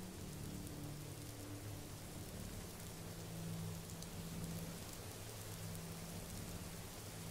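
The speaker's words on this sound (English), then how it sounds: "Oh, it's raining." Steady rainfall hisses softly in the Morrowind world, a faint even wash of drops with a low hum underneath and no speech.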